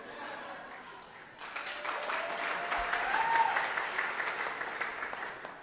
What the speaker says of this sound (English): we're all going to clap together